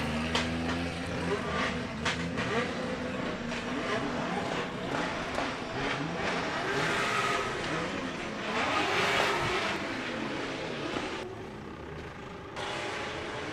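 Drift cars scream around the circuit at Mondello Park during a drifting event, with overlapping engine revs and tyre noise carrying from a distance, rising and falling in waves.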